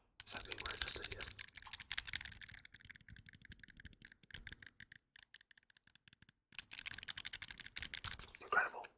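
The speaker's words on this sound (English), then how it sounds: "these amazing clicky, very, very clicky shoulder buttons" Clicky shoulder buttons on a handheld game controller are pressed in quick bursts of crisp, close clicks, with a short pause midway before rapid clicking resumes.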